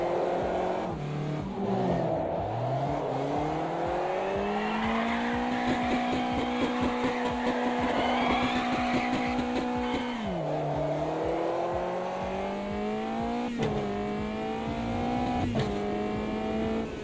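Caterham race car engine in a racing sim game, a loud, continuous whine that rises and falls steadily with gear changes and throttle shifts, with brief dips between revving runs.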